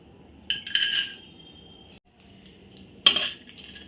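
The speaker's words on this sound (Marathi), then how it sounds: "आता आपण या तुपावरच हे बदामाचे तुकडे घालूया" Almond pieces dropped into hot ghee in a pan, two short bursts of sizzling and metallic clinks of a spoon, close and distinct over a quiet background with no talking.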